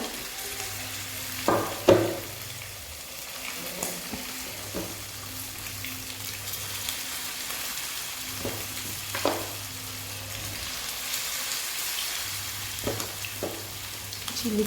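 Chicken pieces frying in hot oil for chilli chicken give a steady, close sizzle with occasional stirring clatter and a low hum underneath, and no one speaks.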